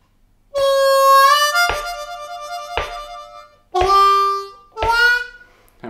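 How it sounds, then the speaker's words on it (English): A harmonica plays a lick that starts on a bent four-hole draw note, releases up to the clean note, then shifts into a fluttering warble, with several reedy phrases played close and alone. "I'm actually starting on a four draw bend on beat one. I'm releasing it up to a clean four draw, and then I'm turning that into a warble."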